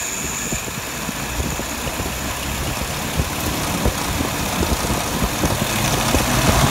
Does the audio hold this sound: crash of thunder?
no